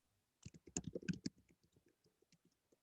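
Fingers type on a computer keyboard during a school board committee meeting, a faint quick burst of clicks that thins into sparse, scattered keystrokes in a quiet room.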